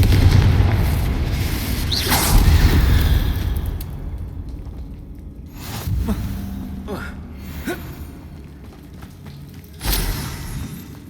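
Confringo spell explosions in Hogwarts Legacy during a duel, several booming blasts spread across the fight alongside other spell impacts, with a voice calling out spells over the noise.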